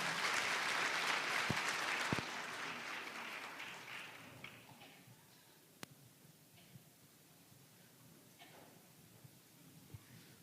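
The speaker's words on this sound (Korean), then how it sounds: "큰 박수로 맞이해 주시면 감사하겠습니다" Church congregation applause welcoming a speaker at a Thanksgiving service and course graduation, fairly faint, with clapping strong for two seconds before fading into scattered claps, rustling and small knocks.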